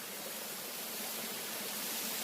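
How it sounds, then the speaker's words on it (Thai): Water pours over a waterfall in Pu Toei National Park, making a dense, constant rushing hiss. It fills the whole clip at an even level, with no voices. "น้ำตกสวยปะ ก็คือน้ำไหลทางน้ำไหลเมื่อกี้"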